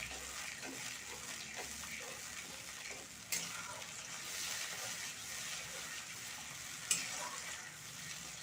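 Sour yogurt goes into a frying eggplant curry, which sizzles softly and steadily while being stirred, with two sharp utensil clinks against the pan.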